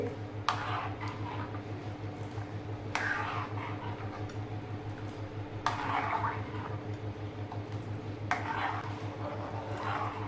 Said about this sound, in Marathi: कढीला उकळी येईपर्यंत आपल्याला हे सतत हलवत राहायचं आहे